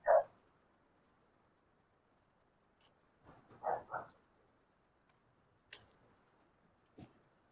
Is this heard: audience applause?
no